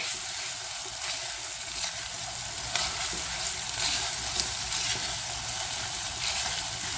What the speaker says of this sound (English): So now at this stage I will add the ginger garlic paste that I have